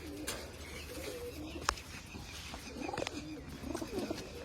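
Pigeons being fed makhni give soft, low cooing calls, faint and somewhat distant, over a quiet outdoor background with one sharp tap and a few light chirps.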